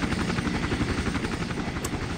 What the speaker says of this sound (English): So I assume that's a helicopter somewhere.